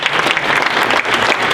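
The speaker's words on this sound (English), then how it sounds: "Round of applause for you." Dense applause from a school audience honoring educators, steady and close for the whole brief moment, with no voices breaking through.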